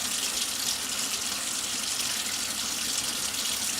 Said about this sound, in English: I'm going to go ahead and rinse my filter, and I just like to use some warm water or hot water.